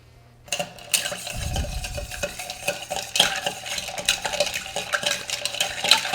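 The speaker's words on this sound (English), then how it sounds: "we'll throw in some ice, and then we will stir" Ice clatters and rattles inside a mixing glass as a Manhattan cocktail is stirred, a close, busy jingle of cubes against glass and spoon that continues without pause.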